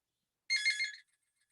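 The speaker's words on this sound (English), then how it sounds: "I got a phone here. Sorry, folks." A phone sounds one short bright electronic ringtone burst of about half a second during a lecture, fairly faint and alone against silence.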